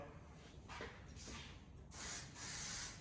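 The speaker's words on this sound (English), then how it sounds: "Now I might want to break my spray back out, and we'll apply some more to it." Aerosol spray adhesive hissing from a can onto car seat foam for a 1955 wagon, several short bursts of spray with brief pauses between them, close and fairly quiet.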